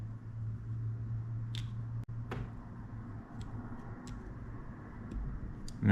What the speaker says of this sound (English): Now I'm just gonna push this bearing back in. You're probably gonna hear it snap.